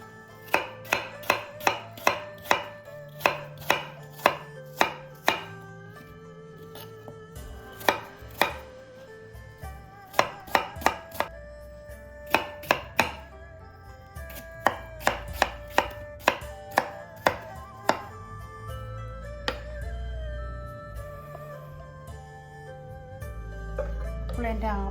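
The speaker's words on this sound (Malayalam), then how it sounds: "നമുക്കിനി ആപ്പിൾ ചെറിയ പീസായിട്ട് കട്ട് ചെയ്യണം." A knife chops apples into small pieces on a board, crisp sharp knocks falling in quick rhythmic runs with short pauses between them, close and clear.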